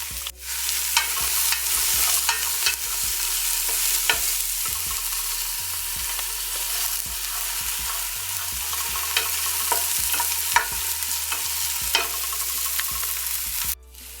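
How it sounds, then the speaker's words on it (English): Garlic and onion sauteing in a hot pan for channa, an even, bright sizzle running steadily throughout with frequent scrapes and taps of a stirring utensil, close and fairly loud, no voices. "I love the smell of garlic and onion sauteing."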